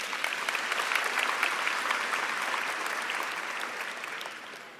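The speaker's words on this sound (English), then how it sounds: "Can I request a round of applause?" A large audience at a university spring graduation ceremony claps in sustained, dense applause that holds steady for several seconds before beginning to fade, loud and close with no speech over it.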